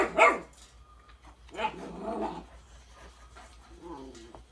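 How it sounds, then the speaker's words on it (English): House dogs at a homestead barking in short, sharp bursts spread over a few seconds, close and moderately loud, with some growly vocalizing between barks. "House dogs. More dogs."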